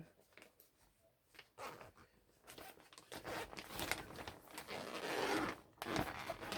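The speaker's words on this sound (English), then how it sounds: "it all just unzips like that, look, and then zips back up" A zipper on a craft item bought in a haul is unzipped and zipped back up, producing a series of quick rasping runs that grow louder toward the end, close to the microphone.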